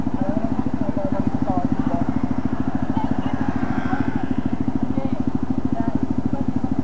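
A Yamaha NMAX V2 scooter engine idles with a steady, rapid mechanical putter close by, while people talk over it.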